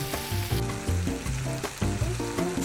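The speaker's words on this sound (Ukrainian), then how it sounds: "Смажимо ще хвилинку, обов'язково помішуючи." Vegetables with chili pepper for shakshuka sizzle and crackle steadily in a hot pan, with occasional stirring scrapes, close up and without any talk.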